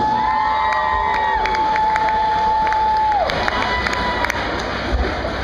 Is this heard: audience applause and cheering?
yes